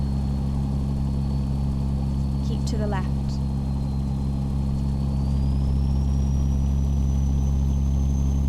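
A simulated big-rig truck engine, a 3406E mod in a Kenworth W900 hauling a Great Dane reefer, idles with a steady, mellow low rumble throughout. A brief navigation voice speaks over it.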